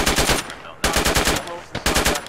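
Bursts of automatic gunfire from enemies in a military realism game set in an Iraqi town, three loud rapid volleys separated by short pauses, close and sharp.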